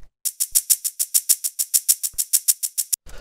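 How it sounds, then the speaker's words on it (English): A little lo-fi shaker loop plays alone, a steady run of about sixteen crisp, bright shakes in even rhythm, fairly loud and close, ending with a short burst of noise. "Then we have this little shaker,"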